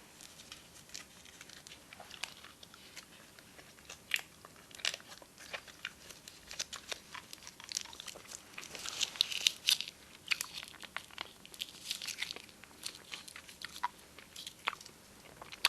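Hard candy being bitten and crunched close up in a quiet setting, with irregular crisp cracks and chewing sounds spread throughout, a denser burst of crunching midway, and occasional faint crinkling.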